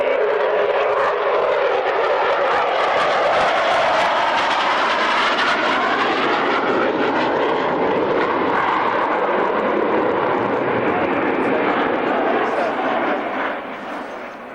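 A Sukhoi fighter jet roars overhead at the Woodford Airshow, a broad, loud rushing jet noise that holds steady and then fades at the end, with a commentator's voice heard over it.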